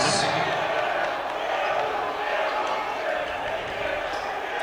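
A high school boys' basketball crowd in a gym fills the space with dense, continuous noise at a missed shot, loud and sustained throughout under a commentator's voice.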